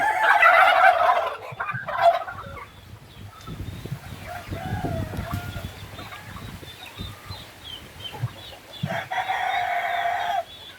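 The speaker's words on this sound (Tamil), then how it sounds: "இதுக்குள்ள வான்கோழிகள்." Turkeys gobble loudly on a farm in bursts at the start and again near the end, with softer clucking and fowl noises in between, no talking.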